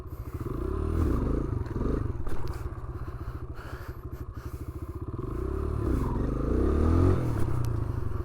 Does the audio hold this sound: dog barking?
no